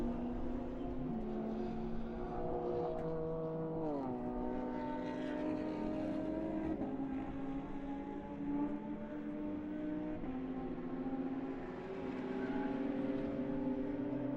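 A Porsche Cayman GT4 race car drives out of the pits at Autodrom Most during an endurance race, its engine note stepping up through gears as it pulls away, loud and steady at first, then fading slightly.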